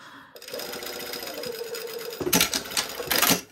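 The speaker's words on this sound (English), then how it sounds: "I'm trying to figure out where I started and stopped sewing" A sewing machine stitching a white summer sweater, a steady close mechanical whir with a rapid needle rhythm, followed by a louder clattering burst of stitching near the end.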